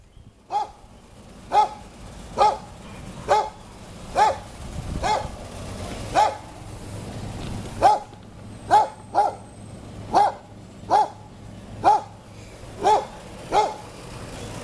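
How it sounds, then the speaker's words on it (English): A dog barks repeatedly at a steady, regular pace, a dozen or so sharp single barks at moderate distance over a quiet outdoor background. "That dog barking at me."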